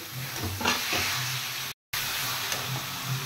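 Minced meat and spices sauté in a pan with a steady, moderately loud sizzle and hiss, a few soft stirring scrapes, and a brief dropout midway.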